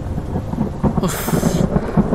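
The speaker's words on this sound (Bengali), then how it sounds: "বৃষ্টি হচ্ছে সব, বাজ পড়ার কি দরকার?" Steady heavy rain with a sharp crack of thunder bursting through midway, loud and close, no voices.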